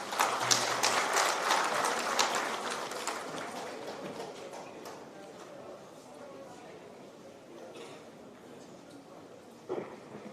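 A crowd at a felicitation ceremony applauds to welcome a speaker, dense clapping strongest at the start and thinning out over several seconds, with low background chatter.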